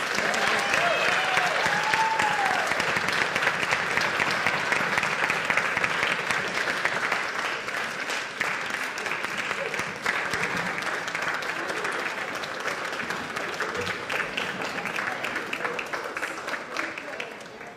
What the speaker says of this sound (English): Let's give one more round of applause for those teachers.